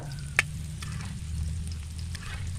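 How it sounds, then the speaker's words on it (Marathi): Chapati pieces fry in oil on a pan until crisp, with a steady low sizzle, broken by a few faint clinks of a utensil. "आता या अलटी पलटी करून आपल्याला छान अशा भाजून घ्यायच्यात, कुरकुरीत होईपर्यंत"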